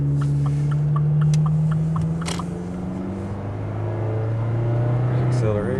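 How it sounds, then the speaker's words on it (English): A car approaching on the road while a midsize four-cylinder truck towing a trailer waits to pull out, a steady engine hum and rising road noise over the truck's own idle, with someone talking over it. "The car's coming."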